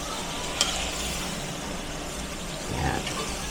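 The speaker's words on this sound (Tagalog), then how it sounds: "Haluin." String beans and pork for adobo cook in a pan, a quiet continuous sizzle broken by a short clink and a scraping stir near the end, no talking.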